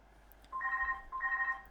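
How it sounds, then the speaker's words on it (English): An indoor telephone rings in two short electronic bursts separated by a pause, fairly faint in a quiet room. "Oh, that's the phone."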